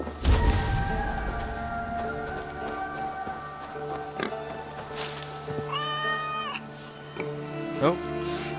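Large cat meowing in Assassin's Creed Valhalla, several drawn-out rising and falling meows near the end over game ambience and light footsteps, with a voice talking through much of it.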